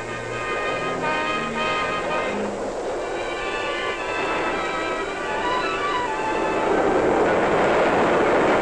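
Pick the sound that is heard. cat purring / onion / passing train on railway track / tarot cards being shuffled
passing train on railway track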